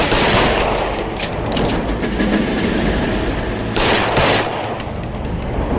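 Rapid automatic gunfire in a shootout in LA Noire, loud, dense bursts running throughout with a couple of sharper volleys, no talk.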